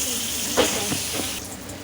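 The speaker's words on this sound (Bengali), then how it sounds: "বেগুনটাকে ভাজতে দিয়েছি" Eggplant pieces with turmeric and salt frying in hot oil, a steady close sizzle and hiss with a brief louder crackle midway.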